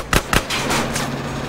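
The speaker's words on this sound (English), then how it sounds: "I guess shooting at the driver don't mean nothing." Gunfire in the video game GTA San Andreas: two sharp, loud shots in quick succession, followed by a rumbling, fading tail.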